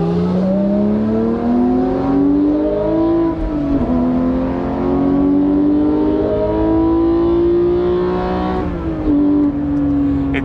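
A Porsche 991.2 GT3 with the 4-liter engine and manual gearbox blips its throttle as auto rev-matching holds revs through downshifts to second, loud and close inside the cabin, the engine note rising and falling smoothly with no talk.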